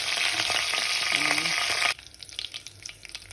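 Curry leaves hitting hot oil for a spicy prawn curry, a loud, dense sizzle and crackle close up that cuts abruptly to quieter, sparse popping.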